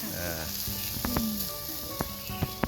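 Steady sizzling of pork frying in a Teflon pan, with a few sharp clinks of utensils against the pan and faint voices in the background.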